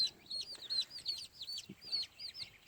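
An old broody gamefowl hen on a farm makes a quick run of soft, high clucking calls, repeated in uneven bursts over faint background noise.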